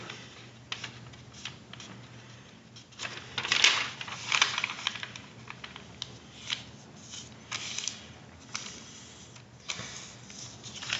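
Paper is creased and folded into an origami bee, with soft crisp rustles and sharp creasing snaps coming in irregular bursts, close and quiet, with no talking.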